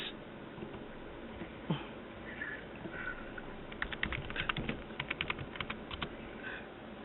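Senators typing on computer keyboards during a session, heard as clusters of quick, light key clicks against steady room noise, denser toward the end.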